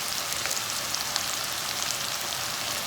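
Chilies sautéing in a pan for a potato masala filling, an even, dense crackling sizzle held close and steady throughout, with no voices.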